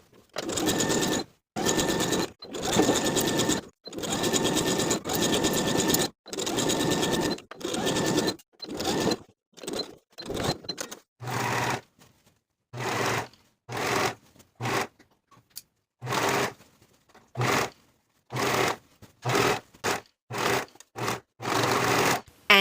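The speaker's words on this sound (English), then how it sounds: "Then we can sew all the way around to attach the flounce to the bottom of the skirt with a 3/8 inch seam allowance" A sewing machine attaches a flounce to the bottom of a midi skirt along a 3/8 inch seam, running in many short, close stitching bursts with sharp stops and quiet gaps between them.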